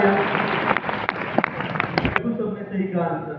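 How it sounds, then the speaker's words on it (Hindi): Loud applause from a crowd of students at a Science Utsav at Jawahar Navodaya Vidyalaya Darbhanga, a dense burst of clapping that carries on for a few seconds and then thins out. "जोरदार तालियां।"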